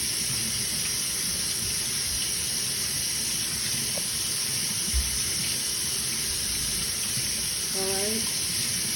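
A faucet runs steadily in a steady hiss as sugar scrub is rinsed off the skin, with a brief clunk near the middle and a faint voice heard toward the end.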